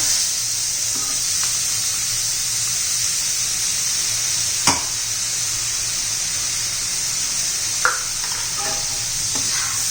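Ginger, garlic and coriander paste sautéing in a pan for spiced rice, a steady close sizzle and hiss with occasional sharp clinks of stirring, no voices.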